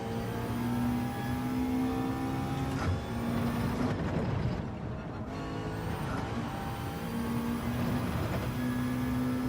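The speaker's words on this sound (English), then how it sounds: "We're in the McLaren." A McLaren race car in Gran Turismo 7 drives with a steady droning engine note, loud and continuous, easing off briefly midway before pulling again.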